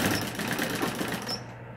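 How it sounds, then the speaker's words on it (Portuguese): A sewing machine stitches tricoline-like cotton fabric for a round stove-top mat, a steady fast mechanical whir with rapid needle chatter, close and continuous, winding down at the end. "aí eu vou costurar"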